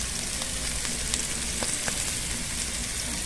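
Chopped vegetables with bell pepper and dried basil and oregano sauté in a pan for spaghetti pie, a dense constant sizzle with a few faint utensil taps and no voices.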